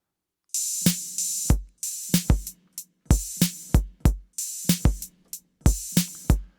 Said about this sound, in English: an open hi-hat, then a snare.